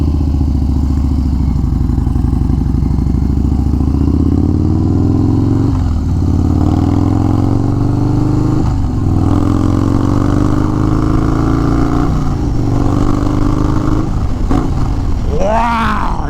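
A 2021 Harley-Davidson Street Bob 114 motorcycle rumbles loud and close while riding, its engine note rising and dropping through several gear changes, with a brief burst of wind or extra noise near the end.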